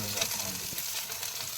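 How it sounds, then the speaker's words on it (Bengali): Fish sizzles steadily in hot oil while frying on a boat during a Sundarbans river fishing trip; a dense, continuous crackle fills the short stretch at moderate loudness, with no talk over it. "মাছ চটচট করে উঠছে"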